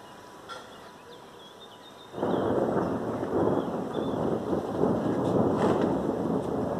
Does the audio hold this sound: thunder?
yes